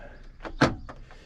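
A small cutlery drawer slides open inside a camper van, giving a short soft scrape followed by a firmer thud near the middle, with a few faint knocks after it, heard close up and alone.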